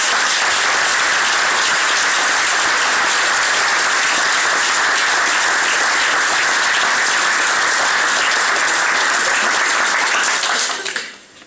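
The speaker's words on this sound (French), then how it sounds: "Je veux applaudir Jean-Claude Pruski" Loud, sustained applause from a large crowd fills the space for several seconds, then cuts off abruptly.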